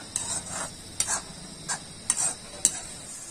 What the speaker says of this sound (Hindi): लेकिन अभी हम इसे थोड़ा और भूनेंगे और उसके बाद उतारेंगे